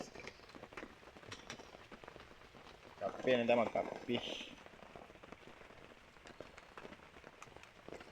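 Steady rain falls throughout, a dense even patter on surfaces, while a person speaks briefly partway through over the downpour.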